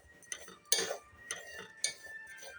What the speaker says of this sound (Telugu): ఇందులో షుగరు, టీ పొడి వేసుకొని క్యారమెల్ వచ్చేంత వరకు ఇట్లా బాగా వేయించుకోవాలి